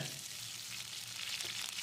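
Steady hiss and crackle of fennel seeds, dried red chillies and curry leaves frying in hot oil for chicken liver pepper fry, continuous and fairly close, with no talking.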